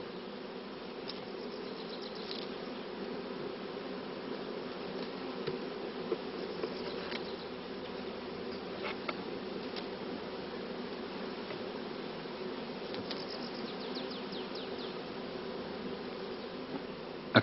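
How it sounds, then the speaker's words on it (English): Honeybees from a queenless split colony drone in a steady, close, continuous buzz around a hive box, with occasional louder passes of individual bees. "all flying bees will soon return to it"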